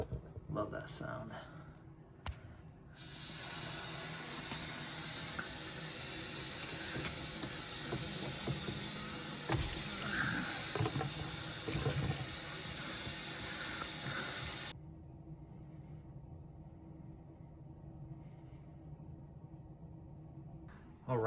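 A water-sourced heat pump's drain line empties with a steady, faint hissing rush of water that runs for about twelve seconds and then cuts off abruptly, leaving quiet background.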